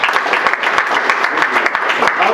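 Audience applause for a veteran at a Veterans Day event, a short burst of brisk, close clapping from a modest crowd, with individual claps distinct in the mix.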